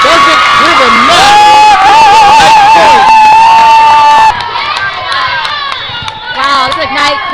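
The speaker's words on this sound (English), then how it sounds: "Wow, this Ignite crowd is loud." Loud volleyball match crowd at a regional tournament, cheering and shouting continuously with high children's and young voices, whoops and yells over each other, briefly easing before rising again.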